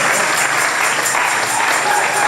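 A church congregation applauds loudly and steadily, a dense, close wash of clapping with faint voices in the crowd.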